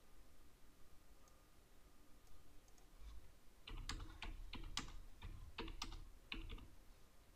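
Date typed into a PDF form field on a computer keyboard: a quiet run of crisp, closely spaced key clicks after a few seconds of faint background hiss.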